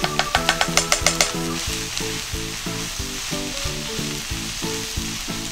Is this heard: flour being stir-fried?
yes